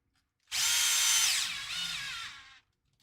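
A power drill whines loudly for about two seconds, backing out screws, its pitch dropping as the screw comes free, alone with no talk.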